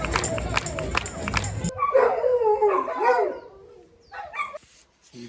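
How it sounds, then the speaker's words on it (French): Several dogs bark and yip at close range in a quick burst, then give way to a whining, howl-like voice and a few softer yelps trailing off into quiet. "Faites un concert de chiens"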